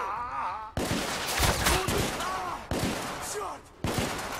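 Gunfire in the video game The Order: 1886 crackles in several bursts of shots, loud and close, broken by short gaps, with game sounds and a groaning voice mixed in.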